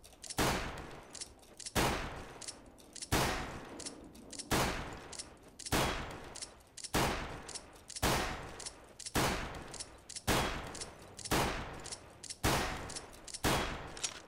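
A Glock in CS:GO fires in burst mode, then switches to automatic during a midair jump. About eleven sharp, loud clusters of shots repeat at a steady, quick rhythm, with no voices.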